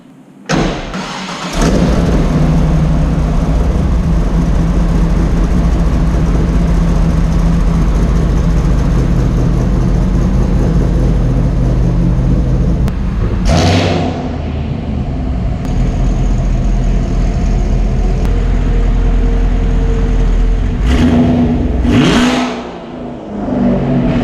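A 1987 Chevrolet Camaro IROC-Z V8 starts and settles into a loud, steady rumbling idle as the car pulls out, with a couple of brief blips of throttle near the end.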